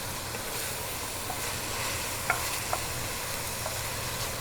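Tomato paste cooks with onions, garlic, oregano and red pepper flakes in a pan, giving a steady, soft sizzle and hiss with a few faint stirring clicks.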